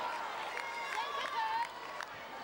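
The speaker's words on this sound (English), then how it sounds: "You can hear the crowd really getting into it too." A sustained crowd roar fills a New Zealand vs Jamaica netball semi-final, with excited cheering rising and falling throughout.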